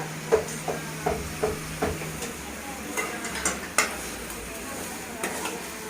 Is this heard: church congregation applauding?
no